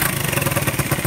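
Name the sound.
2008 motorcycle exhaust making abnormal noise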